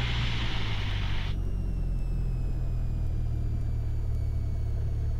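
A small airplane's piston engine during a pre-flight run-up with the carburetor heat check, holding a steady, loud, low droning rumble throughout with no change in pace.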